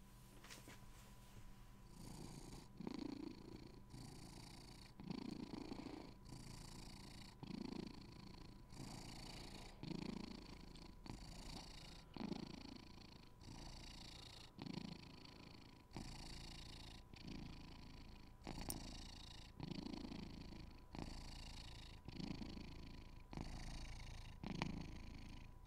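A white cat purrs loudly and close up, a steady rumbling rhythm of in-and-out breaths repeating about every second and a half.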